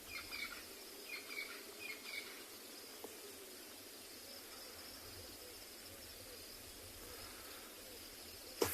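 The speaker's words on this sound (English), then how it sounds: "All these birds starting to chirp a little bit as it's heating up. Some crested francolin going off on the side." Birds call at sunrise on an African safari, including a crested francolin: a quick run of repeated calls early on, then quieter chirps over a constant bed of insect chirring.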